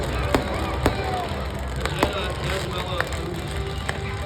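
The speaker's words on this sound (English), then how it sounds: "And you got some fireworks." Fireworks going off at a motorsports park car event, heard as a string of sharp, bright pops and crackles spaced irregularly through a busy outdoor crowd ambience.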